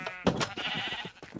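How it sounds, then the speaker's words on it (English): Sheep in Minecraft bleating, a short wavering bleat up close, with a second quieter bleat trailing after. "I hear the sheepy sheeps."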